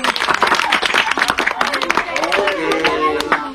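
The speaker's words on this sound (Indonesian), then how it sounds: "Tepuk tangan." Children at a Quran learning group (TPA) clap their hands together in a quick burst of rhythmic, close claps, with voices talking over them.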